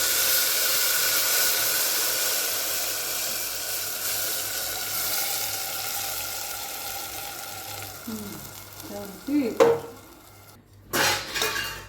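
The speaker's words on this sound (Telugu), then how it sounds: "ఇప్పుడైతే మనము ముందుగా కలిపి పెట్టుకొని ఉన్న ఈ మిశ్రమాన్ని వేసేసుకోవాలి" A pre-mixed spice blend going into a pan of fried onions for a sweet potato curry: steady sizzling at first, then clatter and scraping of a utensil stirring against the pan, with a few sharp knocks near the end.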